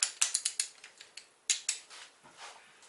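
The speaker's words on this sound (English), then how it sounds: "So get your trusty torque wrench, set it, lock it." Ratcheting clicks from a torque wrench snugging oil pan bolts on a Mk4 VW 1.8T engine: quick bursts of sharp, near metallic ticks, a pause, then another run fading softer, heard alone.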